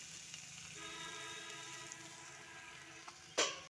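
Spices, onion and garlic paste fry in a pan over a wood-fired stove, a soft steady sizzle with faint crackles and a brief clatter near the end, heard close but quiet, no voices.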